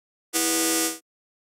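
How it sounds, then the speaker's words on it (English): A mini fan with its spinning blades slapping against a piece of paper gives one steady, loud, buzzy tone lasting under a second, starting sharply and cutting off cleanly. "it's the same mini fan, but I got a piece of paper and basically had the blades slapping against that piece of paper"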